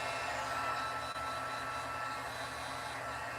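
A craft heat tool drying ink on vellum gives a steady, faint whooshing roar of blown hot air, unbroken and without talk.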